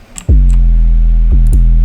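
A deep sub bass synth from an electronic music production plays loud, sustained low notes, with two quick retriggered hits near the end.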